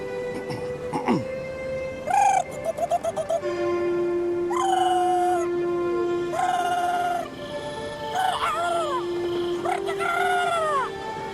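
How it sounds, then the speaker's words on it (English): A series of eerie, wavering animal calls, rising and falling like yowls and howls, repeating several times over a steady low hum. "A silent and stealthy feline. Few have heard its call"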